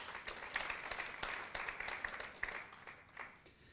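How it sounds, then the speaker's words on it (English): Audience at a startup investor panel applauding a panelist, steady faint clapping from a seated crowd heard at a distance, lasting a few seconds. "thanks for big applause for Sebastián"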